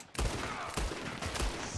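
Gunfire in Red Dead Redemption II: three loud, sharp shots spaced roughly half a second apart, each with a booming low-end thump and a brief ringing tail.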